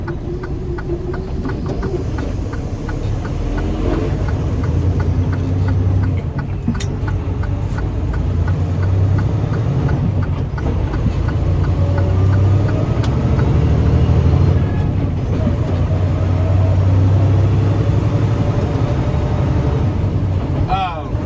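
A Freightliner Cascadia semi truck rolls along with a continuous low engine and road rumble from the cab and a faint rattling tick, while someone talks over it.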